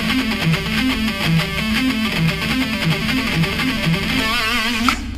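A heavily distorted electric guitar plays a fast, repeating pentatonic triplet lick in a steady rolling rhythm, loud and close, ending with a sustained wavering note.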